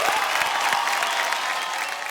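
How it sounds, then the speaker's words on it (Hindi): Live studio audience at an Indian family comedy show breaks into loud, dense applause for mothers, a steady wash of clapping with some crowd noise throughout. "एक बार जोरदार तालियां हो जाए सब मम्मियों के लिए।"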